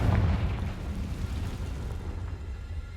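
Blasting curse explosion in Hogwarts Legacy, a loud low boom at the start that decays into a long rumbling tail with crackling debris.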